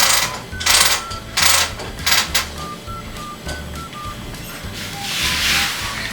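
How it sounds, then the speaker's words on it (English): A sewing machine runs a simple straight stitch down the side of a quilt, its motor whirring in several short bursts with brief pauses between them, close and moderately loud. "Now I'm going to run a simple stitch right here down each side of my quilt."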